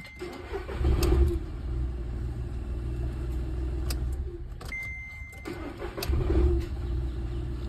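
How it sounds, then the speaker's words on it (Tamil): A Skoda Fabia with a cam sensor fault that caused delayed starting turns over and catches, then settles into a steady mid-pitched idle with a couple of louder engine swells, close by with no talk. "இப்போ வண்டி நான் ஸ்டார்ட் பண்ணுறேன்."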